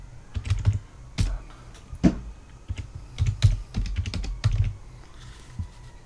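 Keys clack on a computer keyboard while an IP address is entered into a terminal for a Raspberry Pi, close and crisp, in quick bursts of keystrokes separated by short pauses, with no talking.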